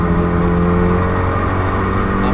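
A Renault Megane R26 engine at full throttle on the Nürburgring, a loud, steady in-car drone that holds constant throughout without a break.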